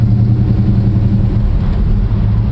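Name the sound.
1969 Plymouth GTX engine running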